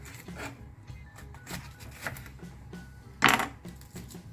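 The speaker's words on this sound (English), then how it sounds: "So the peppers, I'm just going to cut the sides off like this." A knife cuts the sides off bell peppers on a board in a kitchen, giving a series of close, crisp chops and scrapes, one notably sharper, over a low background hum.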